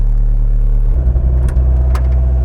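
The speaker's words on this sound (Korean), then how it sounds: "스윙이랑 링기아 쪽에 그리스를 좀 더 주입을 해서 작동을 하면 윙 거리는 소리는 좀 줄어들 것 같습니다" A 2017 Kubota KX57 excavator running nearby, a steady low engine drone with a rough mechanical note as the swing operates; a faint higher whine may sit within it, and no voices are heard.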